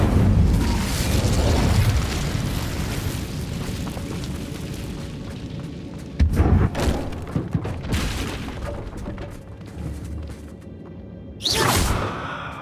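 Incendio fire spell cast in Hogwarts Legacy on Nintendo Switch, heard as a whooshing fiery burst with booming bursts recurring amid dense game ambience, loudest near the middle and end.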